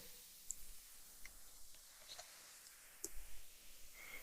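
A computer mouse clicks faintly while someone works in Excel, with a handful of soft, scattered clicks in an otherwise quiet room.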